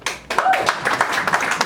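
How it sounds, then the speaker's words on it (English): Comedy club crowd clapping hands in a scattered burst, moderately loud and sustained, with some voices mixed in. "Clap your hands if you've been robbed before"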